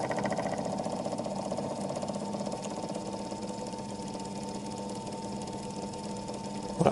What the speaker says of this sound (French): il a hyper accéléré